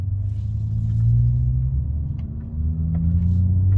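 BMW 435i driving in Eco Pro mode, a steady low engine rumble with a faint rise and dip in the middle, heard from inside the car with no talk over it.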